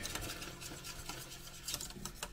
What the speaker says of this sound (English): So what I usually do is take my whisk and whisk it.